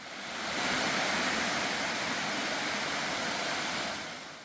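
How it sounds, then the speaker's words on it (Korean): Munwon Hak waterfall pours down from tens of meters high in a steady, dense roar that swells in, holds evenly and fades slightly at the end. "수십 미터 높이에서 마치 워터 슬라이드 같이 물이 쏟아져 내립니다"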